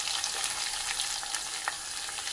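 Curry leaves frying in hot oil with chana dal, cumin and mustard seeds for a mango ginger pickle, a steady close sizzle with a few small pops.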